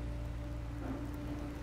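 Steady rain falls in the Minecraft Story Mode video game, a faint, even hiss with a low hum beneath it and no talk.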